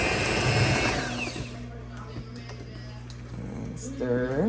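A whirring electric mixer beats banana bread batter with flour, its motor drone loud and close at first, then easing into a lower, steadier hum while a person talks over it.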